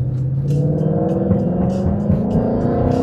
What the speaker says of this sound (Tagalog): Full throttle.